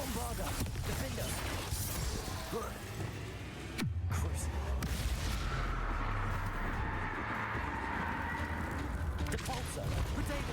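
Combat spells such as Bombarda bursting in the Hogwarts Legacy video game, a dense stream of blasts and impacts with one sharp crack midway, under a voice.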